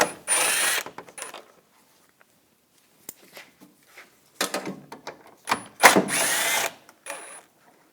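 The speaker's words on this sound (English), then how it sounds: "you're going to use a 10mm socket. Take these bolts out." A ratchet with a 10mm socket backs out the lower grille bolts on a 2014-2018 GMC Sierra, giving loud, close bursts of rapid clicking separated by silent pauses.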